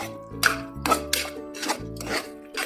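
Chicken chukka masala stirred in a pan, with a spoon scraping and clinking against the metal in several uneven bursts, close and fairly loud, with no talking.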